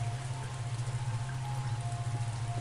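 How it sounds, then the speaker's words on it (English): Steady, even patter of video game rain falling on a surface, with a low constant hum beneath it. "The rain grew stronger, mercilessly beating Scassa."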